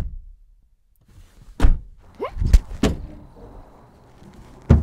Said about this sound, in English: the door closing experience is a little bit more solid.